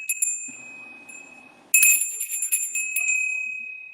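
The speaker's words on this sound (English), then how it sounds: "This is a bell I ring when I want my husband to do something for me." A small hand bell rings in a home with bright, repeated tinkling jingles, a few light strikes at first, then a louder, sustained burst of rapid ringing that slowly fades.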